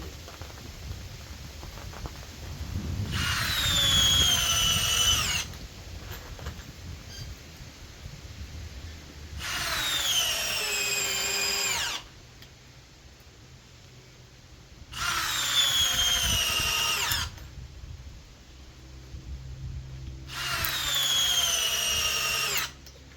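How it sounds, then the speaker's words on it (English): A cordless drill driving 3-inch screws whirs in four separate bursts, each a few seconds long, its motor pitch sagging and struggling as it drives, with quiet pauses between. "You can hear the motor slow down, struggle a bit"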